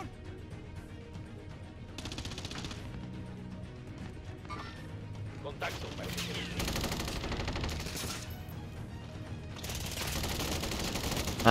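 Gunfire from the video game Call of Duty: Warzone on Xbox One: repeated bursts of shots and crashing impacts, with several dense volleys building louder toward the end.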